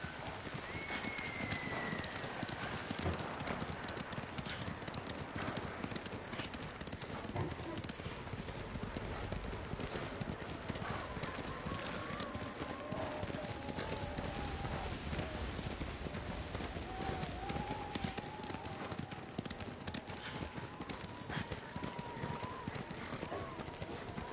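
Horse hooves galloping through snow in a medieval video game, a steady rapid clip-clop running throughout under wind and a scoring of voices, with people talking over the hoofbeats.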